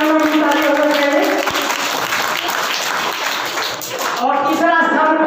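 An audience at a school Bihar Diwas prize ceremony claps steadily throughout to honour an 8th-class student, dense and loud, with a voice speaking over the applause.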